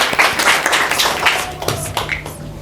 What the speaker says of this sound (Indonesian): Ya, tepuk tangan dong.